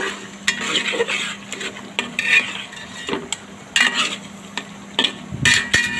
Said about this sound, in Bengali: মাছের মাথাটা আমার কষানো হয়ে গিয়েছে আবারও একটু নাড়াচাড়া করে দিচ্ছি